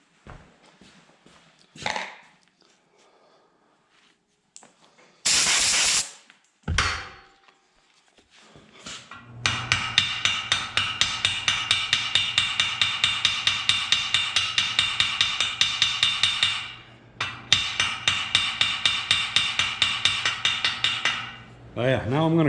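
Repeated sharp hammer blows, rapid and regular, break cracked cast-metal pieces off the water jacket of an Economy 5 hp engine during its rebuild, with a few heavier knocks and handling noises before the steady run.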